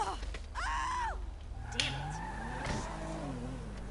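A car in GTA 5 revs and skids, tires squealing in short rising bursts, then settles into a steadier engine drone with another squeal midway, all at moderate loudness.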